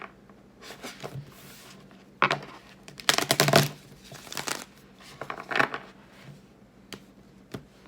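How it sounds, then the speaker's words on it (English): Tarot cards are shuffled by hand in a quiet room, with soft irregular riffles and slaps arriving in short bursts between pauses. "And one more shuffle."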